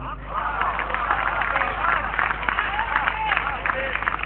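An audience at a poetry recital bursts into applause, a steady, bright wash of many hands clapping, with crowd murmur and voices mixed underneath.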